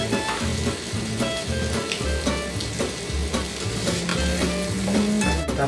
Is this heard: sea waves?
no